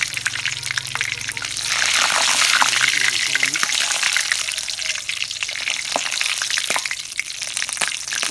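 Steamed puffed snack pieces frying in hot oil, a loud continuous bubbling sizzle with splashes and scooping clinks, a voice talking over it at times.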